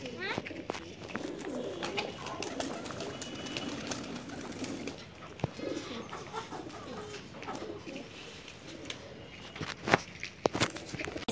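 Pigeons cooing in a loft, soft repeated coos with shuffling footsteps and rustling throughout, some louder knocks near the end, with people talking intermittently.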